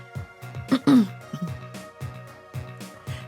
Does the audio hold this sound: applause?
no